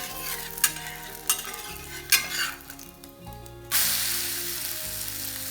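Wheat vegetable roti frying in oil on a hot griddle, a soft sizzle punctuated by spatula taps and scrapes, then a sudden louder hiss as it is flipped.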